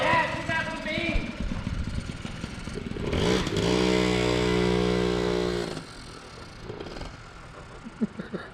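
A 1979 Yamaha QT50 moped engine, abandoned for 35 years, runs with a steady harmonic drone that swells to a sustained loud note in the middle of the stretch, then drops back, with people talking around it.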